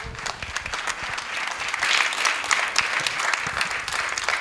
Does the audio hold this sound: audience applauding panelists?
yes